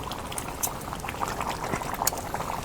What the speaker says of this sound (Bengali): এই দেখো মাংস তরকারি হয়ে আইছে।